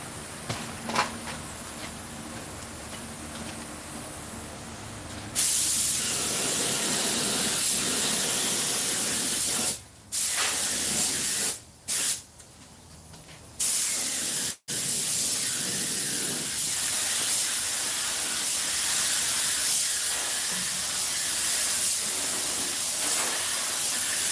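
Old Rust-Oleum spray paint hissing from a can during a 1950 Ford truck seat restoration, loud continuous bursts with a few short pauses, over a quieter background fan.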